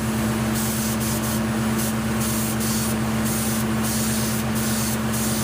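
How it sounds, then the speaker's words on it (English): A spray gun applying Cerakote coating to Springfield XD 45 pistol parts, a loud, constant airy hiss with a steady compressor hum underneath and rhythmic pulses as the gun passes over the parts. "we're getting ready to put the Cerakote on now"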